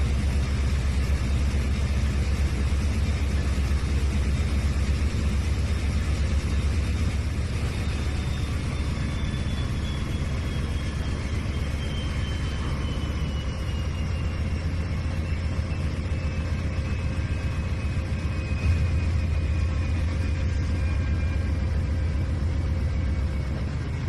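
A train engine motoring along in the Trainz 2019 game, a steady low rumble with a constant drone and faint tonal whine, continuous and unchanging throughout.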